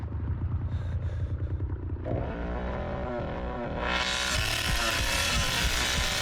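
A chainsaw revs in the Texas Chain Saw Massacre video game, a loud, continuous engine roar that climbs steadily in pitch and grows harsher and brighter partway through, held at a sustained high whine until the end.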